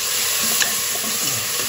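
Tomatoes dropped into onions frying golden in a pan and stirred, a dense loud sizzle with a few soft scraping stirs, close and continuous.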